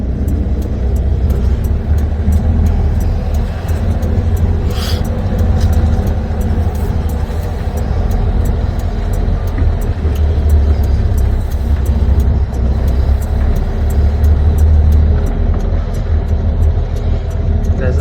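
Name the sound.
semi truck pulling a trailer out of the yard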